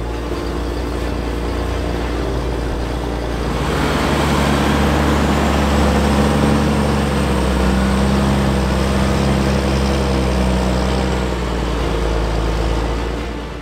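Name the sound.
tractor with 6-cylinder Caterpillar engine running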